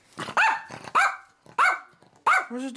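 A dog barks four times in short, sharp bursts with brief pauses between, fairly close, with no talking.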